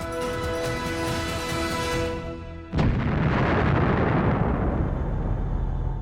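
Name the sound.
Proton rocket launch explosion at Baikonur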